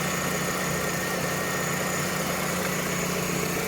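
A Vauxhall Astra F (Mark III) GLS saloon with a 1.6 16V engine idles steadily, a smooth, even hum with constant loudness and no talking.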